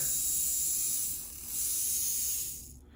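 A rewound old Athearn model train motor runs at 12 volts, giving a fast, steady high whir with faint ratcheting gear clatter, fairly quiet and close, fading out at the end.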